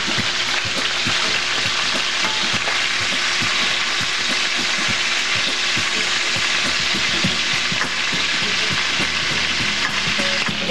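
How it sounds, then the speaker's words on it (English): Sausage frying in a pan for homemade meatball sauce gives a loud, unbroken sizzle, dotted with quick regular ticks and scrapes of stirring throughout. "And turn in the sausage"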